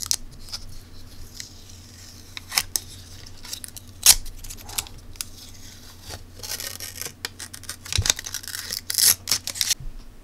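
Protective plastic film is peeled off a small Aliexpress electronics module piece, giving crinkly, scratchy tearing and crackling bursts up close, with a few sharp clicks and taps scattered throughout.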